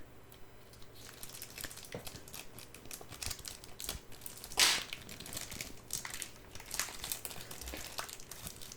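Plastic and cardboard packaging of a Star Wars collectible being cut open with scissors and unwrapped, with soft crinkling and crunching throughout and one sharper, louder crunch midway; no one speaks.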